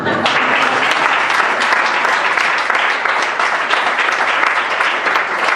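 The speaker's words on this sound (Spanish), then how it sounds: "Den un aplauso al Señor." Loud, dense applause from a large crowd, steady and sustained throughout with no pauses.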